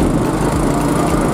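A car engine drones steadily on a narrow road, picked up by a small Panasonic HC-V180 handycam inside the car as a continuous rough hum with no talk.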